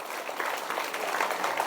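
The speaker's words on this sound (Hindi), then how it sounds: "सभी ताली बजाएं और सम्मान करें उनका।" An audience at a school gurukul function claps together in a steady, dense burst of applause, moderately loud and continuous for a couple of seconds.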